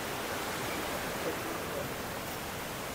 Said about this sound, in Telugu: ఇప్పుడు నా వెనకాల కూడా ఇంకొక బ్యూటిఫుల్ వాటర్ ఫాల్.